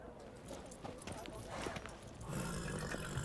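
Hooves of the horse Roach clip-clopping in a video game, a steady trotting rhythm under game music and ambient effects, growing slightly louder toward the end, with talk over it.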